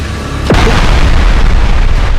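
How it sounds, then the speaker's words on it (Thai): Loud air strike bomb explosion on a battlefield, a single sharp blast midway followed by a sustained deep rumbling roar that fills the rest of the moment. "แรงสั่นสะเทือนของระเบิดอากาศทำให้ผืนดินสะท้านสะเทือน"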